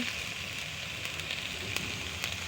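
Eggplant fries in hot oil with a steady, even crackling sizzle that holds at a constant level throughout, close by and with no talk.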